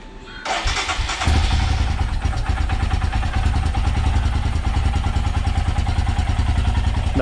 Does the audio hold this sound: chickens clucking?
no